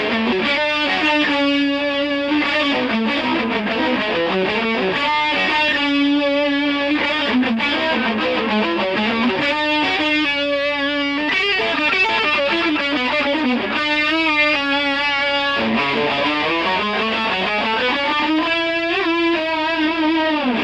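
A heavily distorted electric guitar plays a lead lick slowly. Sustained notes bend and slide continuously at a loud, even level, with no pauses and no voices.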